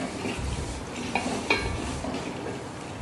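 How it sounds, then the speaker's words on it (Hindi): Chicken curry with green chillies being stirred in a pan: a soft scraping stir over a low sizzle, with two sharp metal clinks of the spoon against the pan, close up and without talk. "इसको मिक्स करना है अच्छे से।"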